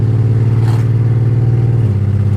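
A cheap salvage BMW 325xi E46 revs hard in second gear. The engine is loud and close, with a steady buzzing growl that holds its pitch and then drops abruptly near the end as it comes off the throttle.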